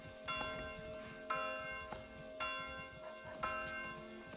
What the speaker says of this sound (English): You know you can customize the bell sound?